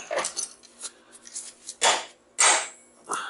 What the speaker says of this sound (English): here's where a bit of hammer action comes into play.